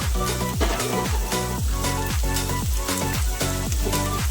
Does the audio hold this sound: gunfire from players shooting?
no